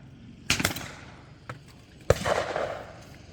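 Two sharp shotgun blasts at a clay shooting session, the first at half a second and the second about 1.6 seconds later, each a loud broadband crack followed by a short outdoor decay, with a faint click between them.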